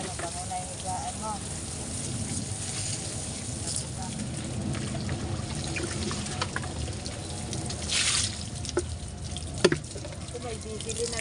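A faucet runs a steady hissing stream of water during a dog bath at home. The flow stays even throughout while voices speak now and then over it.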